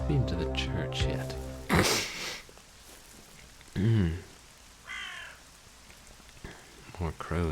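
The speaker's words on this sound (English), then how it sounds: "More crows, I hear." Crows cawing in a spooky video game, a few harsh caws spread across the clip amid a rainy ambient background, with a person's voice briefly heard over them.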